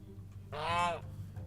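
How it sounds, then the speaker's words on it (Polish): A goose or duck in a modded Minecraft game lets out a single harsh, honking call lasting about half a second, loud against a quiet low background hum. "Kaczka, tu jest gejś."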